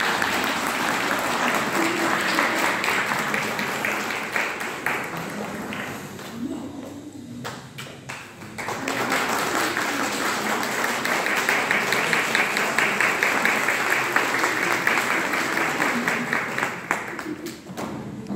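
A concert audience applauds to welcome a choir conductor, Yüksel Bircan, onto the stage: dense sustained clapping filling the hall, easing briefly in the middle before swelling again, with a voice audible over it.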